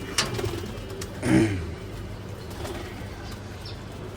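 Laldom and kaldom show pigeons coo softly in their loft, a few low murmuring calls and a brief louder burst near the middle over quiet background noise, with no speech.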